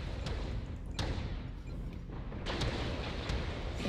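Autocannon fire in a mech combat video game: several heavy, spaced booming shots ring out over a constant loud mechanical rumble.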